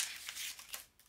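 Tarot cards are handled and put back in place, with soft, faint papery swishes and a few light flicks over about a second.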